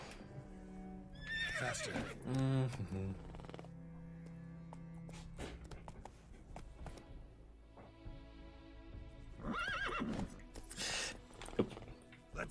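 A horse in The Witcher 3 whinnies several times over the rapid clip-clop of its hooves, with game music and effects underneath and a brief spoken word from a player.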